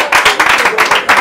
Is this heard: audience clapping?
yes